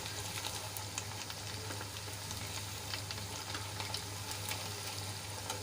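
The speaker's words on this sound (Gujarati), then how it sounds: "પલટાવ્યા બાદ આપણે બંને બાજુથી ક્રિસ્પી થાય ત્યાં સુધી તળી લેવાનો છે" A snack of semolina and raw potato fries in a pan with steady, dense sizzling and crackling throughout, close and even, with no talking.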